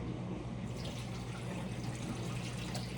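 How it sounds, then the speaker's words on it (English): Two cups of plain water poured into a pan on a stove burner for blueberry lemon pie filling, a faint, steady trickling splash that carries on evenly throughout without talk. "I'm gonna add 2 cups of just regular water."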